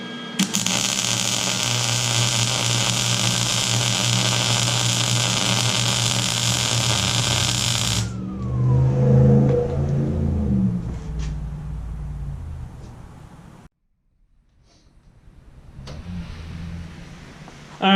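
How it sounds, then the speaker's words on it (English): Lincoln Electric Easy Mig 140 MIG welder running at max voltage on metal, a loud steady crackling buzz for about eight seconds that suddenly cuts out, followed by quieter clattering noises and a brief silence. "So let's try welding it up and see what it does."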